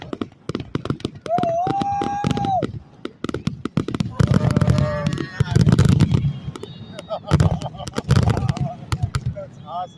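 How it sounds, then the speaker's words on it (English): Fourth of July fireworks over Apollo, Pennsylvania: repeated loud bangs and crackling bursts, with a rising whistle early on, while excited people exclaim and talk throughout. "I've never seen fireworks like this."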